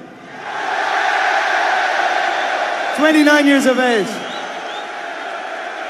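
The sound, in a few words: crowd of fans cheering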